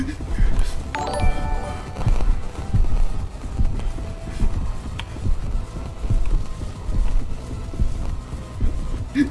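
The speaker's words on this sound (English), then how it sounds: "Those footsteps are so huge" Heavy, thudding footsteps of the monster Seek in the video game Doors pound in a steady rhythm, loud and booming, with excited players' voices over them.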